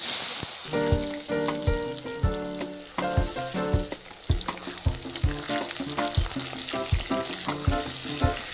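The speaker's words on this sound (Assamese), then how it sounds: "মই ইয়াত নৰসিংহৰ পাত তেজপাত আৰু পিয়াজখিনি দিলো আৰু এইখিনি এতিয়া মই ভালদৰে ভাজি লম" Onion, bay leaves and curry leaves sizzle and crackle in a hot pan for a mutton curry, with steady frying hiss and repeated clanks of a spoon stirring against the pan, no voices.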